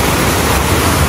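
Water gushes loudly and steadily from a wave pool at a closed amusement park, a dense continuous rush with no gaps and no voices.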